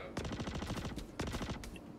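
Rapid automatic gunfire in Star Citizen rattles out as quick, evenly spaced bursts of shots at moderate loudness, broken by a short pause before a second burst.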